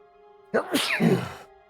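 A single sharp sneeze bursts out suddenly, fairly close and loud, with a voiced, breathy tail that trails off after about a second.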